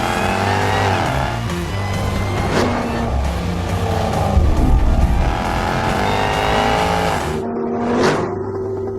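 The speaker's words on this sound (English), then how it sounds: "600 horsepower, I mean, it just accelerates, it goes." A 600-horsepower 2018 Jaguar XE SV Project 8 accelerating hard on a race track, loud engine climbing through gears with sharp upshift breaks and brief tire noise, close and continuous.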